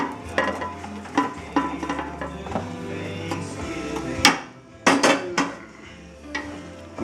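A utensil stirs browned meat into tomato sauce in a pan, scraping and clinking against the metal in a steady, close rhythm, with a few sharper knocks near the end and a soft simmer underneath.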